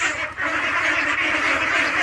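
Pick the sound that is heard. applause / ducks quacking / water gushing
ducks quacking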